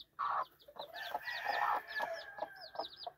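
A broody McGinnis sweater game hen clucks in short, repeated bursts close by, with her two newly hatched chicks peeping high and quick around her on a farm in spring.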